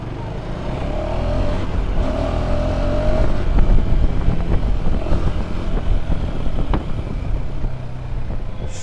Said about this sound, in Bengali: গাড়িটার এক্সস্ট নোটটাও খুব ভালো।